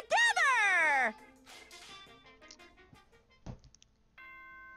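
A ding-dong chime from the video game Danganronpa rings out loud and bright at the start, a descending bell-like tone fading after about a second, followed by quieter game sounds and a short electronic tone.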